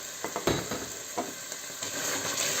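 Chopped onion sizzles and fries in a pan over moderately lowered heat, a steady crackling hiss punctuated by a few sharper stirring scrapes and taps.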